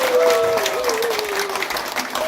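An audience at a small theater in Insadong applauds a composer, with steady sustained clapping and a held tone running underneath.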